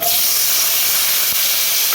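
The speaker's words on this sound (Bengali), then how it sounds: "এরপরে আমি আলু দিলাম আলুগুলোকে ভেজে নিই" Potatoes fry in hot oil with whole tempering spices for a paneer curry, giving a steady loud hiss throughout the short stretch.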